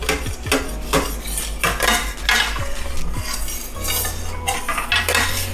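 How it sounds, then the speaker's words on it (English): A metal utensil scrapes and clatters against the bottom of a pot, loosening browned bits while cooking pork chops with rice, with repeated close scratchy strokes and a low steady hum underneath. "Make sure you scrape up all those bits on the bottom"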